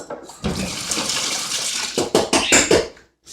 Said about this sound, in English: I gave them a little shake off in the water.